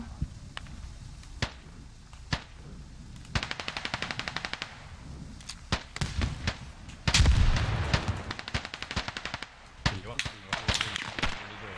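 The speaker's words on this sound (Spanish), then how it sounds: "¿Ese mortero?" Gunfire and explosions from the military shooter game Squad, including mortar fire: sharp single shots, rapid automatic bursts and a heavy booming blast midway, near and loud, with voices talking over the combat.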